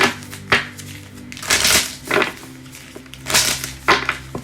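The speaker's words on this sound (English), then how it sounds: "Deck does not want to shuffle." Playing cards being shuffled and riffled in a tarot-style reading setup, with several separate bursts of papery crackle and rustling coming in quick clusters at close range, no voice.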